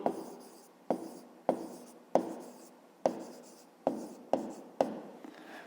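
A pen writes on paper during a fifth-grade maths exercise in eight short, scratchy strokes, each starting sharply and fading, spaced at a fairly steady pace and heard close up.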